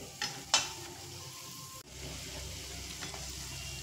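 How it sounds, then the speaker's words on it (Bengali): Cabbage and chicken balls frying on a low flame as they are stirred, a soft steady sizzle broken by a few sharp clinks of a utensil against the pan. "তো আমি এইভাবে নাড়াচাড়া করে 2 থেকে 3 মিনিট মতো লো ফ্লেমে ভেজে নেব।"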